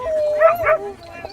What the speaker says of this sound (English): I never dreamed I would have all these dogs.